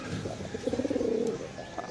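Pigeons cooing in courtship, a close, soft run of throaty pulsing coos lasting about a second amid quiet background.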